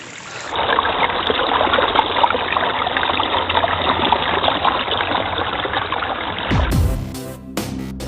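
A stream fed by runoff from the fields above flows steadily in a broad, loud rush of water lasting most of the clip, ending in a few brief knocks and splashes near the close.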